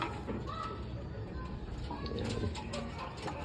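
Racing pigeons cooing during a sprint race, soft low coos close by under continuous background noise, with someone talking in Filipino over them.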